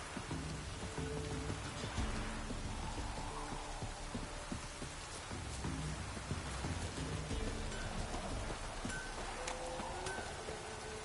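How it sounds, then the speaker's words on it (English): Steady rain from a drizzle falling in The Witcher 3 video game, a continuous hiss spread evenly throughout, with a low rumble that may be distant thunder and soft background game music. "Oh, it's drizzling."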